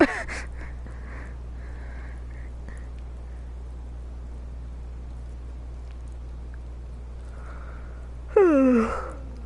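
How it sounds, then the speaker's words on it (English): A game character in Life is Strange: Before the Storm lets out a drawn-out yawn that slides downward in pitch near the end, close and clear over a steady low background hum. "Oh, why am I yawning?"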